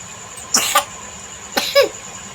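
Two separate coughs about a second apart, close and fairly sharp, with quiet background between them.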